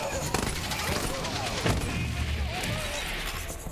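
A semi-automatic gun fires in Borderlands 3, a few sharp shots standing out in a busy, dense mix of game action noise and effects.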